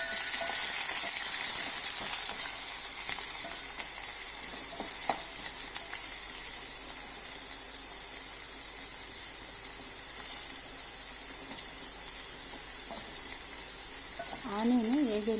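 Garlic cloves frying in hot oil give a continuous, bright, fairly loud hiss that holds steady throughout, and a brief voice comes in at the very end.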